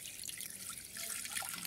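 Plain tap water is poured over a mixture of fennel and other herbs, making a faint, steady trickle with soft splashes at close range.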